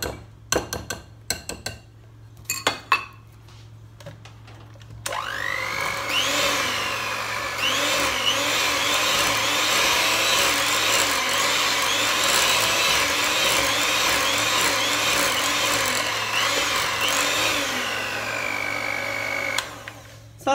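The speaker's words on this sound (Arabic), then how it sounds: "دابا غادي نعاود نزيد نطرب واحد شويه" An electric mixer beats cupcake batter, starting after a few seconds of clattering bowl sounds and then running as a steady, loud whirring drone until near the end.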